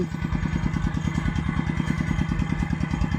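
A small engine-driven water pump runs beside a fish pond, its rapid, even chugging pulses steady and close throughout.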